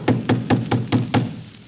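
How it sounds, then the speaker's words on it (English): Knocking on a door as a radio drama sound effect: six firm, evenly spaced raps, close and clear, with nothing else audible. "Knock louder, George."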